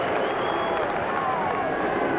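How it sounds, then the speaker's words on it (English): A large rugby league stadium crowd at Mount Smart Stadium roars for the New Zealand Kiwis during a 1993 test match against Australia, a dense and constant wash of cheering and applause with no break. "And hear that crowd for the Kiwis."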